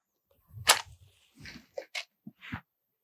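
A match is struck to light a string wrapped around a glass bottle, giving one sharp close scrape and flare, followed by a few faint scratchy ticks in a quiet room.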